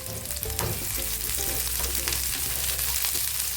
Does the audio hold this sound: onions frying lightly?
yes